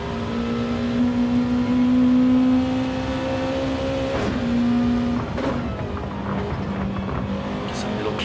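Race cars in a sim racing game running bumper to bumper into a chicane: a steady high engine whine that drops and shifts pitch through gear changes and braking, with a commentator talking over it.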